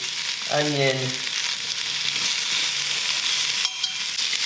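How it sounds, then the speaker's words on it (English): Lemongrass, garlic, ginger and spring onion stir in a hot pan for Vietnamese chicken pho, with a steady close sizzle throughout. A brief tonal squeak near the start stands out, and a short scrape comes late. No one speaks. "Just give it a quick stir around"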